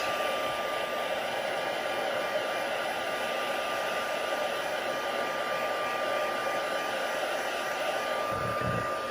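A crafting heat tool blowing hot air onto the backs of paper pieces, a steady, loud whirring hiss with a constant tone that runs unbroken and alone throughout.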